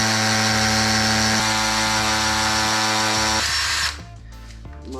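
A power drill with a metal bit runs at a steady high whine in a motorcycle build workshop, loud and close for several seconds before the motor stops and spins down.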